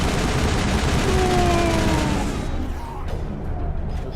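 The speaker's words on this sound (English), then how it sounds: "You can release all the Varen you want, they're just gonna get shotgunned to death anyway." Shotgun gunfire in the Mass Effect 1 video game during a fight with varren: a dense, continuous burst of blasts and combat noise that stays loud throughout and thins slightly near the end.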